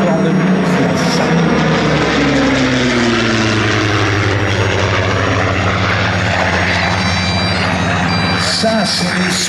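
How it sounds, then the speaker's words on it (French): Propeller engine drone of Supermarine Spitfire aircraft flying past at an air show honouring Queen Elizabeth II, loud and sustained with a slowly shifting pitch as the planes pass, with bagpipe-like tones and crowd noise around it. "Ça, c'est les Spitfire, l'avion le plus célèbre."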